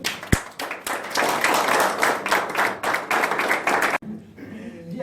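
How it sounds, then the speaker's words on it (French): Dense applause from an audience at a Lions Club induction ceremony in Cannes, loud and continuous for about four seconds, then cutting off into quieter room sound with faint voices. "On peut applaudir."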